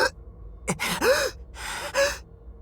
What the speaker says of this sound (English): I'm gasping for air.